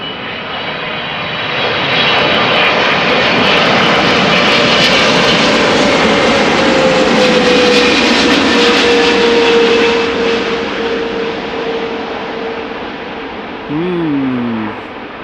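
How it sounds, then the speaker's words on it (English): Boeing 777-300 jet airliner arriving at Amsterdam Schiphol, a loud, steady jet roar that swells and holds for several seconds before slowly fading, with a faint whine lingering. "we have a heavy that is getting close, 777 time, and after that another triple."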